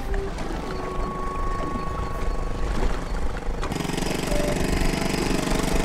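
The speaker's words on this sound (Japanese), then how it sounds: "もうなんかエンジン聞こえたろ。" A vehicle engine runs with its engine cover slightly open, a steady low droning rumble that grows fuller and louder partway through, with no talking.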